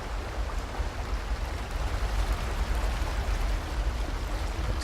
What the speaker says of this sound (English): go through this waterfall